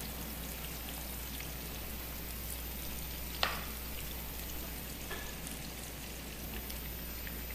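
Chipotle sauce hitting heated oil in a pan, a steady, dense sizzle and crackle throughout, with a couple of brief sharper pops partway through.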